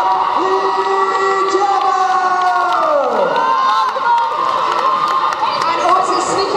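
A roller derby bout crowd cheers loudly and continuously, with high shouts and whoops from children and adults swelling and dipping over several seconds in an indoor arena.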